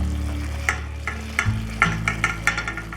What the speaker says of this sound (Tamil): இப்போ நம்ம ஃப்ரை பண்ணி எடுத்து வச்சுருக்க எக்கை வந்து இதில் சேர்த்துடலாம்.